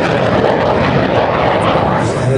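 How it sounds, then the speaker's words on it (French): Propeller airplane taking off at the Rennes airshow, a loud, steady engine roar close by and filling the whole moment without a break. "ces avions décollent en général alourdis ou ça va vite."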